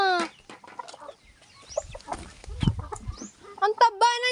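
Small chickens cluck and squawk close by while being fed, bursts of sharp calls mixed with rustling and thumps, with a person's voice breaking in now and then.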